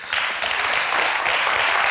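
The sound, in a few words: applause for the jury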